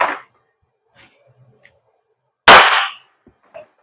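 An airsoft pistol, an Umarex Glock 19 Gen5, fires two sharp, loud cracks through a chronograph roughly two and a half seconds apart, with faint clicks and handling noises in the quiet gap between them.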